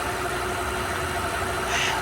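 The twin-turbo V12 of a 2008 Mercedes S600 idles in a smooth, steady, even hum, close and alone, with no one speaking.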